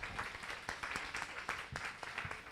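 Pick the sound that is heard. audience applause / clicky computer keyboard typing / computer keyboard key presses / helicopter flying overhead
audience applause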